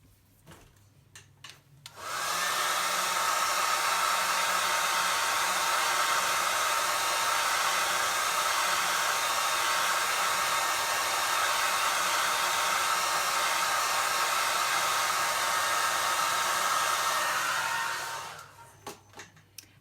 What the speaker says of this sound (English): So I'd say I pretty much always use my hair dryer, even when I'm not doing a video.